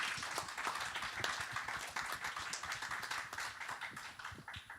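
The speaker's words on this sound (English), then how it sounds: "So I think all of you, white hat hackers, deserve a really big applause." A conference audience claps for white hat hackers at an awards session, scattered distinct hand claps mixing into quiet, fairly distant applause that continues evenly.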